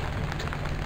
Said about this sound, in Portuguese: tá chuviscando, graças a Deus